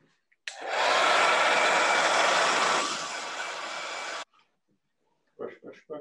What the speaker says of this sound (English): But I'm now going to dry mine off with a hairdryer.